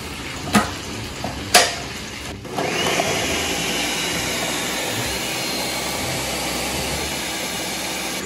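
A kitchen blender grinding green chillies with coriander leaves and a little water into paste: a couple of clicks, then the motor starts and roars steadily and loudly for several seconds.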